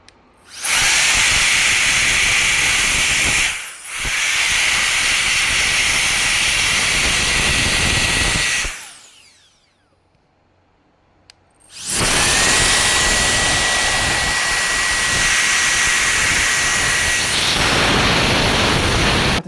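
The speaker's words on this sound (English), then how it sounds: "this air duster is so powerful that it was pushing down the keycap on the keyboard" A EUKI compressed air duster on its third power level blasts a keyboard's keycaps with a loud, steady roaring hiss, cutting out briefly twice before starting up again, with no voices.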